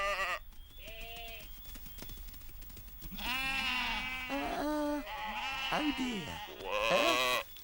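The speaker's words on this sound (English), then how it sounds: "Nice sheep. Nice sheep." Several sheep bleat close by in a cartoon scene, loud wavering cries coming in bursts and overlapping one another, with a brief spoken exclamation early on.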